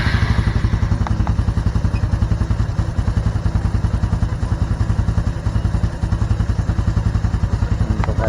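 A Honda Supra X 125 Fi motorcycle engine idles steadily up close, a continuous low rhythmic chugging with light mechanical clatter throughout, no voices.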